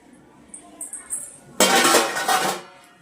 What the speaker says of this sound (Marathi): भांडे तेवढं घासणार आहे